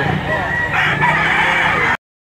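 A rooster at a poultry auction in Lipa, Batangas, crows once, loud and close, a single drawn-out call that cuts off abruptly.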